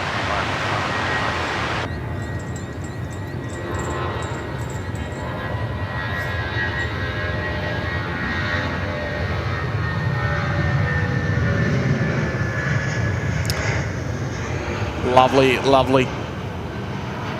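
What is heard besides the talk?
Jetstar A320 jet taking off from Sydney runway 16 right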